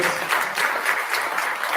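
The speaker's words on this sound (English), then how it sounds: "For everybody, give them a round of applause." A hall full of people at a Dolton city board meeting gives a round of applause, a close, loud and steady wash of clapping with a slight pulsing swell.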